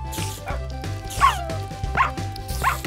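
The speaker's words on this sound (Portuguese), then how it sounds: "Meus cachorros!" Dogs bark in the Minecraft farming mod Harvest Fest, a string of sharp, close yips and barks in quick rhythmic succession with whimpering pitch rises, over a steady low game hum.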